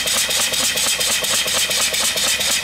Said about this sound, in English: Nice engine. As soon as it's broken in, it'll run a lot smoother.